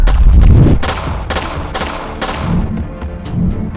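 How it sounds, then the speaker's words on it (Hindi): Rapid bursts of gunfire in an animated detective story, several loud sharp shots in quick succession with a heavy boom at the start, no talking. "तभी अचानक एक बंदा पीछे से फायर कर देता है"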